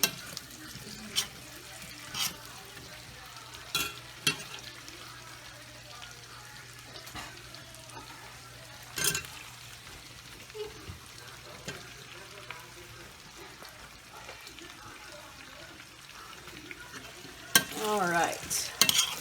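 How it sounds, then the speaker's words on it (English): Potato slices frying in oil crackle in a steady sizzle, interrupted by several separate scraping stirs as a utensil turns them in the pan, and a louder rattling burst near the end. "You want to kind of stir them and spin them around and make sure that you're getting that oil on there on all sides, on all of the different slices."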